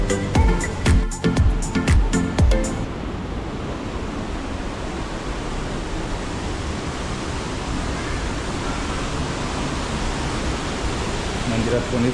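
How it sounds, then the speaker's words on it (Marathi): Waterfall in full flow beside Kundeshwar Temple in Badlapur, a steady broadband rush that fills the clip, with a few seconds of voices at the start before the water carries on alone. "हा बाजूचा आवाज येतो तो पूर्णपणे धबधब्याचा आहे"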